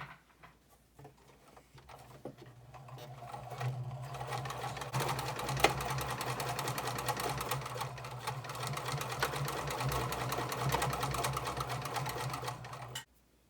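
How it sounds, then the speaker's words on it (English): A sewing machine runs steadily, stitching across the top of a bag pocket, a continuous fast mechanical whir and tick that starts quietly, builds, holds for several seconds and then stops abruptly. "you're going to sew from this end all the way to that end, a little reverse at the beginning and at the end."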